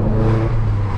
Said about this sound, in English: Ooh, that R32 sounds good.